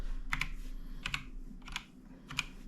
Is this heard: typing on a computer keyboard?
yes